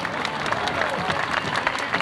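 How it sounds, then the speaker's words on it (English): Brief audience applause at a 1988 Kings Dominion amusement park animal show, a short burst of clapping from an outdoor crowd with faint cheering in the mix. "Now get ready to welcome them to the show with a big round of applause."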